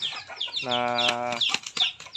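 Aseel chickens cluck and call close by, one drawn-out harmonic squawk standing out among several short, sharp clucks.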